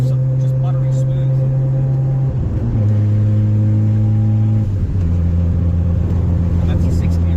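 A Mazda RX-7 FD fitted with a CD009 gearbox accelerating hard, its loud steady engine drone stepping down in pitch at each of two clean gear shifts, heard from inside the car.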